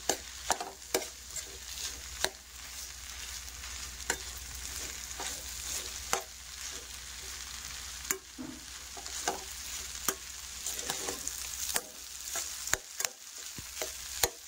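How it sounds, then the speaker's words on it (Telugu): Rice being stirred into a mustard pulihora mixture in a hot pan, with continuous frying sizzle and repeated scraping, clattering strokes of a spoon against the pan at an uneven rhythm. "రైస్ వేసేసి బాగా కలిపేసి ఒక 2 minutes దమ్ పెట్టేద్దాం."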